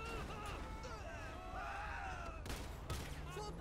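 Gunfire from the game GTA V with the LSPDFR police mod, a few shots cracking amid busy in-game noise, with a sharper burst near the end.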